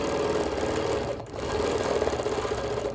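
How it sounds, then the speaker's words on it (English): A sewing machine quilts curls through a thick quilt with a lightweight batting, its fast steady stitching loud and close, easing briefly about a second in before running on. "So I decided to quilt some curls in here."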